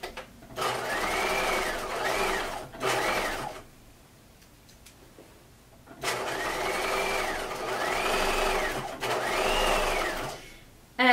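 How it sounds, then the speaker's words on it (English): A sewing machine runs in two long steady bursts, edge stitching around a skirt pocket, its fast whirring hum close and loud, broken by a short pause and a quiet stretch with faint handling in between. "we're edge stitching around the pocket"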